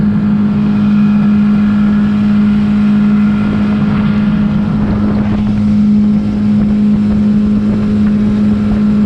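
A fishing motorboat engine on Rend Lake drones steadily and loudly throughout, with a constant low hum and wind buffeting the microphone.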